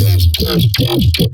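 A robotic synth bass tone through a Vocodex vocoder effect with shifting formants, moving in short gliding phrases like a talking bass line, loud and continuous.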